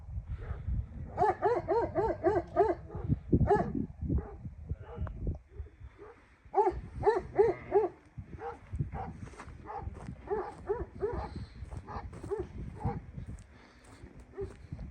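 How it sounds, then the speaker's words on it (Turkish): Several Kangal dogs bark repeatedly at moderate distance, bursts of overlapping barks coming in uneven clusters with short pauses, fading toward the end. "Köpeklere havlıyorlar."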